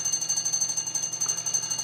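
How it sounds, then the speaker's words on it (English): An electronic alarm beeps in a rapid, steady pulse of high-pitched tones that repeat without a break from start to finish. The beeping is loud and close, with no voices. "Little beeping, who cares?"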